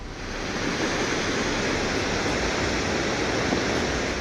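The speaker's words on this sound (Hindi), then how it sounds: "पहाड़ पर बादल फटने के बाद भूरे रंग का यह सैलाब तेजी से नीचे गिरता दिखाई दे रहा है।" A brown flash flood torrent roars down a mountainside after a cloudburst in Uttarakhand, a steady, dense, loud rush of churning water that holds constant from start to end with no voices.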